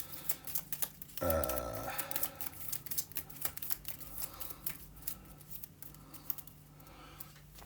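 A deck of board game cards is shuffled by hand in quick bursts of crisp riffling and rustling at close range, with no talk.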